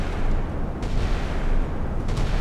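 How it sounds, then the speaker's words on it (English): Heavy booming launch blasts from naval missiles in the Sea Power warship game, a dense rumbling roar with a couple of sharper surges, loud and continuous with no talking. "Missiles are out."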